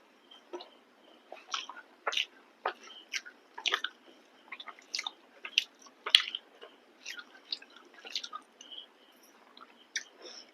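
Someone eats homemade potol alu sabji with fried fish, producing close, wet chewing and smacking sounds in irregular bursts, quiet and alone.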